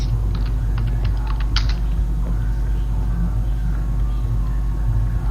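Typing on a computer keyboard during a Minecraft session, a quick burst of close sharp key clicks early on, then quieter over a constant low hum, no speech.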